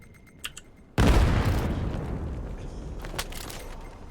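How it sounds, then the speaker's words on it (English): A video game gunfight bursts out with a loud close explosion, followed by a rumbling decay under scattered gunshots and crackling fire that continue into the distance. "Here we are, the big gunfight on A."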